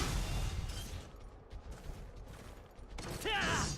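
Gun lance mini charge shots in Monster Hunter 3 Ultimate, a few heavy blasts and mechanical clanks ending in a rising whine, fairly loud and close.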